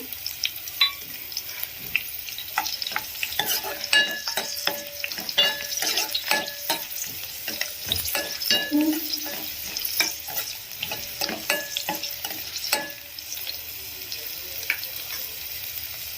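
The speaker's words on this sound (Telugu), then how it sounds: "ఇలా లైట్గా కలర్ చేంజ్ అయిన తర్వాత రెండు ఎండుమిర్చిని ఇలా తుంచుకొని వేసుకుంటున్నాను" Two dried red chillies, broken by hand, frying in hot oil in a pan for a mung dal and gongura curry, with a steady sizzle and repeated scrapes and taps of a stirring spoon throughout, close and fairly loud, no talking.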